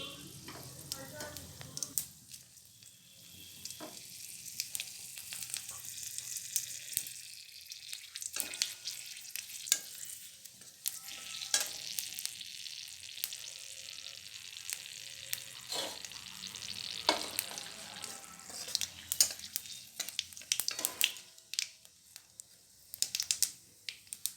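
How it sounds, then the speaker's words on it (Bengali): Dried red chilli, bay leaf and cumin hit hot oil left from frying koi fish, giving a bright continuous sizzle with crackling pops and occasional stirring scrapes, fairly quiet and close. "কই মাছগুলো যেই তেলে ভাজা হয়েছিল সেই তেলেই আমরা দিয়ে দেব শুকনো লঙ্কা, তেজপাতা, জিরে"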